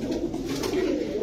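Pakistani Jhaggola pigeons cooing up close: a low, throaty, continuous coo with no break, clear and fairly loud.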